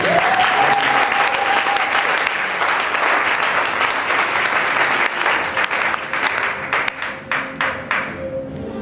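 A church congregation at a youth worship service applauds to acclaim the Lord, loud sustained clapping from a full room that thins into separate claps near the end, with a brief voice tone at the start.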